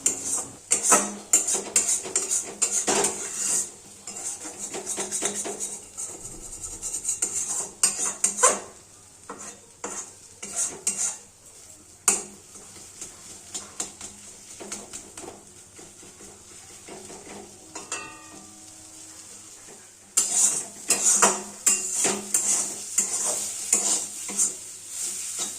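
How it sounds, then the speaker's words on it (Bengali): Water spinach (kalmi shak) is stirred in a pan, with close bursts of utensil scraping and clatter against the metal, a quieter stretch midway, then brisk stirring again; no one speaks. "এবার অনবরত নাড়তে থাকতে হবে, নাহলে নিচে কিন্তু লেগে যাওয়ার ভয় আছে।"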